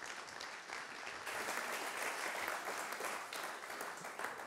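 Steady applause from a conference audience welcoming a speaker at an AI and music event, a continuous even wash of many hands clapping, moderately distant and sustained throughout without voices.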